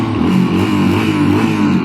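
1986 Yamaha XT350 motorcycle exhaust, a brief close, loud burst of rough single-cylinder engine rumble held at steady revs with no talk.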